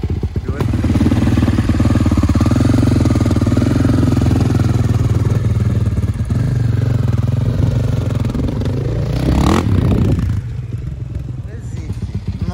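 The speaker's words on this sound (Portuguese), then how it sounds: "testando moto nova" A 2022 Yamaha or GasGas 450 dirt bike engine runs loud and close at a steady idle-like drone, with a brief rev rising near the end before settling back.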